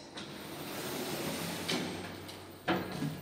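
Orona lift with three-speed sliding doors moving along their track in a building stairwell, a steady low rumble under faint hiss with a couple of soft clunks as the panels start and stop.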